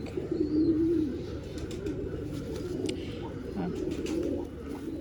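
A Rampuri Kalanch pigeon coos softly nearby in low, throaty rolling phrases, with faint background noise and a hint of a voice.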